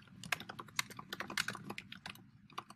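Quick, irregular keystrokes clatter on a computer keyboard while an email subject or campaign name is entered, crisp and close with brief gaps between bursts of typing.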